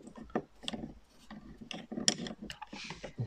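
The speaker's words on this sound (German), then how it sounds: "nehmen dann die Schraube hier hinten raus" A screw is worked out of the door trim on a Mercedes SL300 R129, heard as quiet, scattered clicks, ticks and short scraping rubs at close range.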